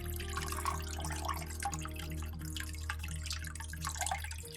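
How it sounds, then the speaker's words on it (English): Water trickles and drips steadily into a 15-gallon Waterbox Mini Peninsula aquarium tank over a low mechanical hum, a soft continuous pouring close by with no talking. "And then I'm going to pour some directly into the tank."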